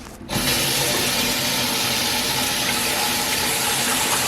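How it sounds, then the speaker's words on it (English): Water from a sink tap rushes in while a vintage McClary's No. 9 kettle is rinsed. The flow bursts on after a brief quiet start, then holds as a steady, close, hissing pour. "This in the sink and rinse it out."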